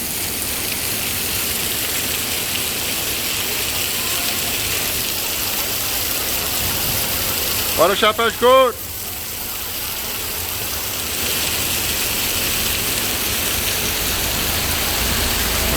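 Heavy rain pours down over the town centre of Itapajé, Brazil, a loud continuous hiss filling the whole stretch, with a voice briefly calling out in the middle.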